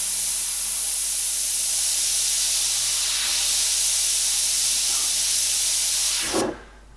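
An airbrush sprays paint as a fine mist over metal rivets, giving a steady, close, airy hiss that continues for about six seconds before abruptly stopping.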